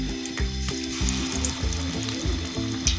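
Cauliflower pakoras deep-frying in hot ghee give a steady, close crackling sizzle with bursts of popping bubbles, no talk over it.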